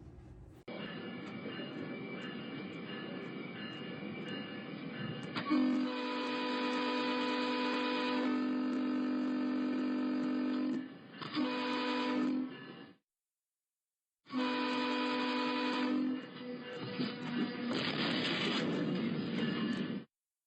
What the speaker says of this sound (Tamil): கனடாவில் ஒன்றாரியோக்குள்ளே ஓடுற இந்த கோட் ட்ரெயின்ஸ் உங்களுக்கு தெரியும்